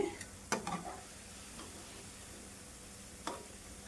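Vegetable pieces for veg manchurian frying in oil, a faint steady sizzle with a few sharp clicks and scrapes from a utensil near the start and again toward the end.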